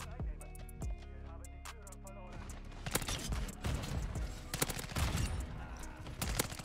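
A Honey Badger rifle fires in Call of Duty Warzone 2, rapid automatic bursts of sharp close shots under game ambience and distant weapon fire.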